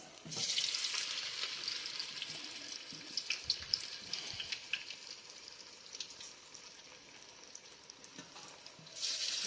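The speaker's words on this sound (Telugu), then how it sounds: "మంచూరియా కోసం ఇలా రౌండ్ రౌండ్ బాల్గా చేసుకొని ఆయిల్లో ఇలా వదులుకోవాలి" Vegetable manchurian balls frying in hot oil give a continuous bubbling sizzle with small crackles and pops, close but fairly quiet, swelling briefly near the end, without any speech.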